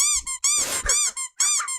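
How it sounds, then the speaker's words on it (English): A squeaker toy squeaks repeatedly in quick, loud, close bursts, about five shrill squeezes in under two seconds, with no talking. "let me get in that squeaker"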